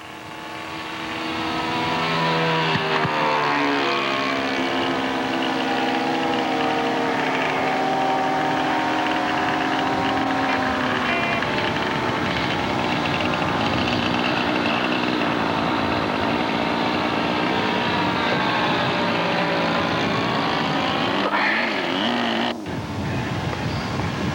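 A Club Sport model airplane with an NU-46 four-stroke engine drones steadily in flight, a continuous buzzing whine that shifts in pitch as it passes, loud and sustained throughout with no talk.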